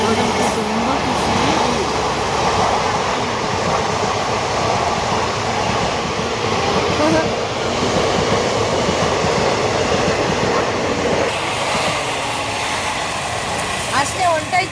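A train passes close by with a loud, continuous rumble and clatter of wagons that eases off near the end, while people talk over it.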